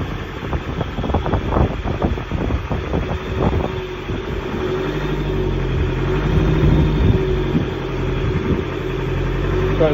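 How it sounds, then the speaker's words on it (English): Boat engines idle with a steady, close, low rumble, while rattling and clattering mechanical noise sounds during the first few seconds. "You can hear the engines right below me here in."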